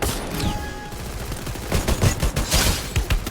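Video game gunfire during a headshot kill, rapid bursts of shots crackling in quick succession, loud and close, with a busy mix of game sounds behind and no voices.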